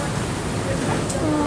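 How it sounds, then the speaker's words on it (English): A waterfall in a zoo penguin enclosure gives off a steady broadband rush of falling water, close and continuous throughout, with no breaks. "There's a waterfall."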